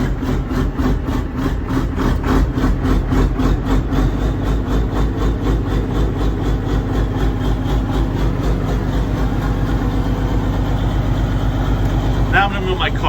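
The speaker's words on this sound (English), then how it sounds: "Fucking love diesel." A diesel engine idles steadily at close range, a loud, even low rumble with rapid regular pulsing throughout, and a brief clatter near the end.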